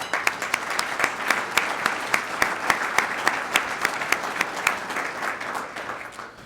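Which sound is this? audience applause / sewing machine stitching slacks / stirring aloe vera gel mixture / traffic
audience applause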